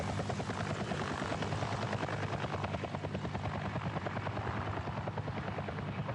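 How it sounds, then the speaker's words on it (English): A helicopter in the video game World of Tanks thrums with a steady, rapid rotor chop that holds loud and constant throughout, with no voices. "Knew I heard a helicopter."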